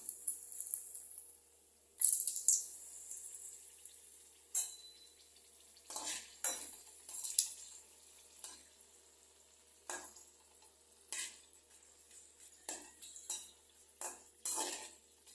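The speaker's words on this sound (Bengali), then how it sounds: "সবার প্রথমে আমি এই শুকনো লঙ্কাগুলোকে ভাজা করে নেব।" Dried red chillies frying in a little hot oil in a pan, heard as quiet, close spoon scrapes and clinks in a slow, irregular rhythm over a faint sizzle, without speech.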